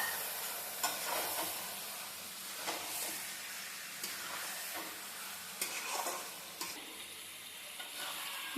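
Chicken pieces fry with spices and tomato puree in a pan for chicken kosha, a continuous close sizzle and hiss punctuated by repeated scraping stirs of a spatula at a steady, unhurried rhythm.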